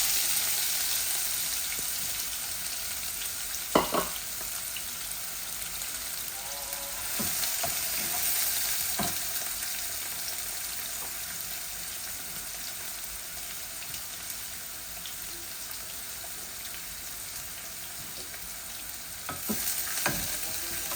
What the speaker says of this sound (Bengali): আমার জিরাগুলা লাল লাল হয়ে গেছে, আমি অল্প একটু পেঁয়াজ দিলাই।